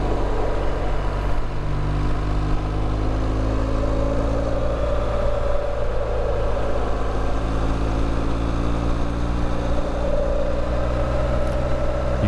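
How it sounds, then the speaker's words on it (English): Knobby motorcycle tires run on pavement through long sweeping curves, giving a continuous low rumbling hum with engine drone, steady and close, with no voices. "the knobby tires, when I'm riding straight up, very noisy"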